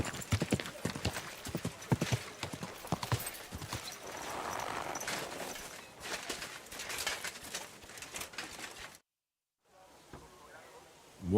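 Horse hooves clip-clop steadily in Kingdom Come: Deliverance II, a close, rhythmic trot of hoofbeats with ambient birds and brief voice, then cutting to near silence near the end.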